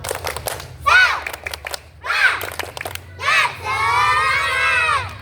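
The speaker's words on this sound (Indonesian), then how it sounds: "Sekali lagi, tepuk semangat." Schoolchildren at a physical education lesson repeat a spirit clap chant, crisp bursts of rhythmic clapping punctuated by loud unison shouts and closing with a long, drawn-out group yell.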